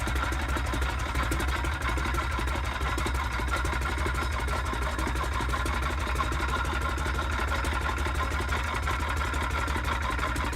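The engine of a 1917 Holt tractor with a large flywheel runs at low speed, a steady, even, rhythmic chugging rumble heard up close.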